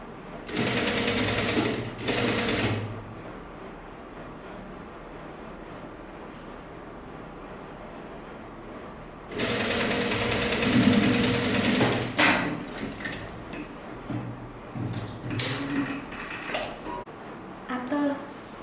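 A sewing machine stitches the strap of a sleeveless top in two bursts, a short run early and a longer steady whirring stretch later, close and clear with quiet gaps between.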